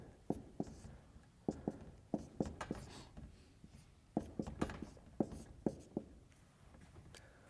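Irregular taps and scratches of writing on a board come in clusters of quick strokes with short pauses between them, faint and close, with no voice over them.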